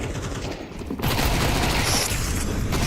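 Gunfire from a Counter-Strike 2 pro match between G2 and Mouz during pistol fights, a dense run of sharp shots that thickens into a steady barrage after a quieter start.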